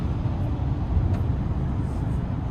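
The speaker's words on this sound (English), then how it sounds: "I hear the tires, but it's not like overly intrusive" Low, steady tire and road rumble inside the cab of a GMC Sierra 2500HD SLT X31 three-quarter-ton Duramax pickup while driving, a continuous muted drone with no speech.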